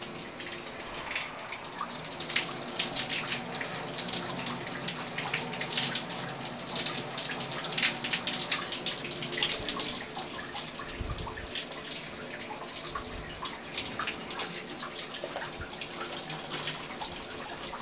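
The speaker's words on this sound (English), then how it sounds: "Gonna just give it a quick rinse." A computer keyboard is rinsed under a running tap, water splashing and spattering steadily over the keys for the whole stretch, close and continuous with no voices.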